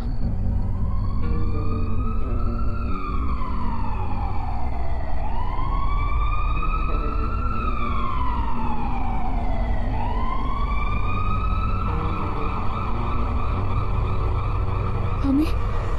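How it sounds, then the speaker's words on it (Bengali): An ambulance siren passes on a distant main road, wailing in slow rising and falling sweeps over a low traffic rumble, steady and moderately loud. "দূরে বড় রাস্তায় একটা অ্যাম্বুলেন্স চলে যাওয়ার শব্দ"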